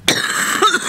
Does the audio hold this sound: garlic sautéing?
no